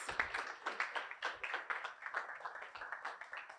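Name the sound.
audience applause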